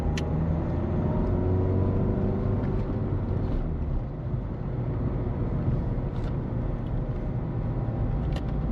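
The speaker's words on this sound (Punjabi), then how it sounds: "ਗੱਡੀ ਤਾਂ ਫੁੱਲ ਜ਼ੋਰ ਲੱਗਣ ਡਿਆ" A car engine labors hard up a steep, winding mountain road with a stony surface near Om Parvat on the Adi Kailash route, giving a steady loud low rumble and drone that holds throughout with no talk.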